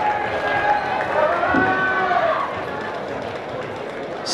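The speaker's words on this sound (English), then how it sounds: "Round of applause for Fia." Crowd noise from an audience at a university cultural showcase dance competition, cheering and applauding a placing dance group; a steady roar of voices and clapping fills the room, fading slightly toward the end.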